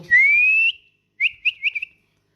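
A parrot gives a long rising whistle followed by a quick series of four or five short chirpy whistled notes, close and clear with no talking.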